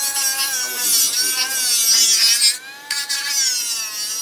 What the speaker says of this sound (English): The Dremel's not acting right. It's being real touchy.